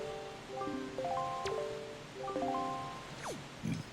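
Ocean waves in the video game The Legend of Zelda: Wind Waker make a steady, soft wash running the whole time beneath bright melodic notes, with no voices.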